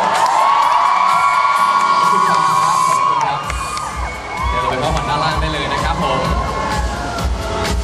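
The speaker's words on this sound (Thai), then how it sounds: "ขอเสียงปรบมือให้กับทุกท่านบนเวทีด้วยนะครับ" An audience cheers, whoops and shouts for people on stage at the close of an event, with children's voices among the crowd. The crowd noise is loud and continuous, and a low rumble joins in partway through.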